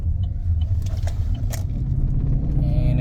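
A 2014 Chevrolet Silverado diesel pickup, running after DEF fluid contaminated its fuel tank, drives along with a steady low engine and road rumble heard from inside the cab, plus a few light rattles and clicks.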